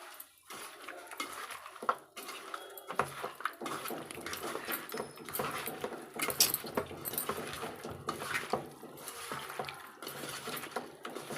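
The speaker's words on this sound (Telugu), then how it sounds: "మొత్తం ఇప్పుడు ఇదంతా స్మాష్ కలుపుకుందామా" Curd pickle ingredients get mashed and mixed with a spoon in a bowl, a busy run of scraping, clinking and squelching strokes close by with frequent metallic taps.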